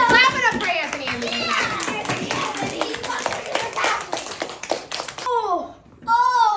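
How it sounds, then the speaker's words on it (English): Classmates clap for Anthony in a school surprise, sharp claps mixed with loud, excited children's voices and shrieks, fairly close and busy throughout. "Clap it up for Anthony"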